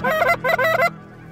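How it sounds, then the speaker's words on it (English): Geese honking on a goose hunt in Wyoming, a burst of three loud, close honking calls in quick succession, then quiet field ambience. "To hear Josh work a group of geese on the call is one of life's pleasures"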